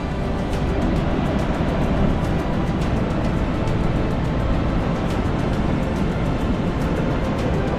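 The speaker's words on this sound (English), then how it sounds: "The waves." Heavy ocean surf on the Portuguese coast, swollen by a passing storm, roars steadily and loudly throughout with no clear breaks, like a constant wash of breaking waves heard up close.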